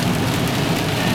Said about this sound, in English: It's raining, sort of sleeting.